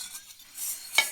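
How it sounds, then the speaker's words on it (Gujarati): Spoon stirring a bhel mixture in a bowl: soft scraping and rustling close by, ending in a brief sharp clink near the end, with no talking. "હવે બધું હલાવી દો."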